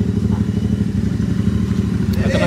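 Exhaust of a Royal Enfield Interceptor motorcycle revving, a loud, steady, throbbing engine drone with a rapid pulsing beat that holds through the whole stretch, close to the listener.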